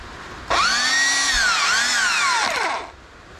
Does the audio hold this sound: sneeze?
no